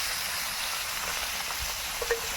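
Fresh pond fish frying in oil in a pan: a continuous, even crackling sizzle, close and steady, with a couple of faint pops near the end.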